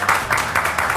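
A bar crowd at a metal bar claps for Camila, steady close applause with bursts of rhythmic accents roughly every quarter second, filling the moment without any speech.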